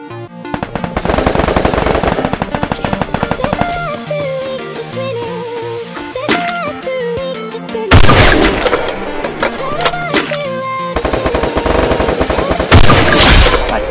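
Rapid automatic gunfire in a competitive online shooter match, long rattling bursts of fast shots with heavy booming reports, brief pauses between volleys, loud and close throughout.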